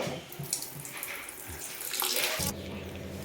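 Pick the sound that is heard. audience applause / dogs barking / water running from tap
water running from tap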